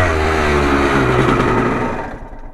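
A motorcycle engine revs loud and close in first gear during a slow wheelie, holding a steady throaty drone before easing off toward the end.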